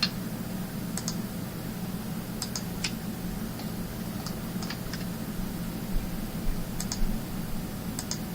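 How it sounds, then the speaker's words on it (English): Keyboard keys, including the shift key, click sparsely while building a joint skeleton in Maya 2013, a few quiet paired taps spread over a steady low hum with no talking. "Clicking a shift key button at the same time."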